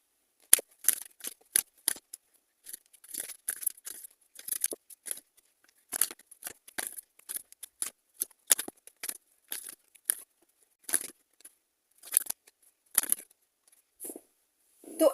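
Tarot cards are handled and shuffled in a quiet room, giving a long run of crisp, close snaps and riffles of card stock in irregular bursts with short pauses between them.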